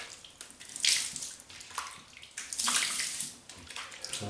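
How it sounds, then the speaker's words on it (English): Water from a shaving brush soak is poured into a plugged sink, a splashing, gurgling pour in two main surges with softer trickling between, close and fairly loud, with no voices. "Now I'm not going to waste the bloom water. I'm going to tip it in the sink."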